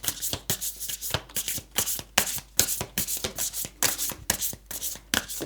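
Tarot cards are shuffled and drawn by hand for a pick-a-card reading, a close series of crisp riffling and rubbing bursts in a quick uneven rhythm, with no talk.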